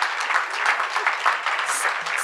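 Applause at an ALD Connect awards ceremony honoring newborn screening work, dense steady clapping from an indoor audience filling the short stretch without pause.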